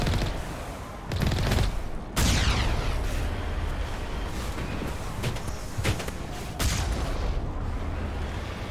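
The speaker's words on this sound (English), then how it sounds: "They're just going to open fire straight away." Syndicate members open fire in Mass Effect 1 Legendary Edition, a loud running fusillade of rapid gunshots and booming bursts. Sharp cracks punctuate a sustained din of fire throughout.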